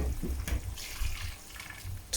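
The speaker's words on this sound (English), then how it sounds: "I'm going to add water now." Water is poured from a cup into a pot of mutton curry, a brief soft splashing and trickling that comes in a few short bursts at low volume, close by.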